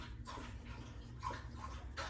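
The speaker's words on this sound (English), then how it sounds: "Jupiter, dog's having a drink" Dog lapping water from a bowl in a kitchen, several quick wet slurping bursts at close range over faint background noise.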